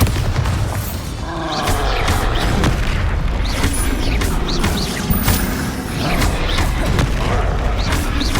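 Bombarda explosion spell cast in the Hogwarts Legacy video game, a dense run of loud booming blasts and crashing impacts layered over continuous game effects, with brief shouted voices among them.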